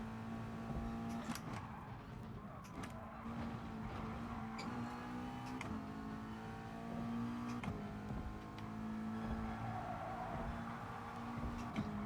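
A race car engine in GT Sport pulls steadily in 7th gear, giving a continuous loud droning whine held at a high pitch with slight rises and dips throughout.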